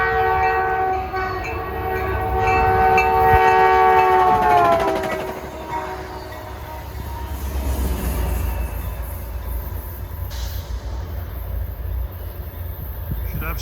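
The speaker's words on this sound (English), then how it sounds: "approaching at 4:27 is train 409, a limited stop train from San Jose" A Caltrain limited-stop commuter train rumbles past close by, sounding a long, loud multi-tone horn that drops in pitch as it passes, followed by rolling wheel and engine noise.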